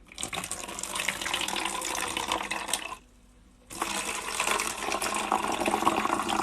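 Freshly cold-pressed apple juice poured into a bottle, a loud continuous splashing pour that stops briefly mid-way and then resumes just as strongly.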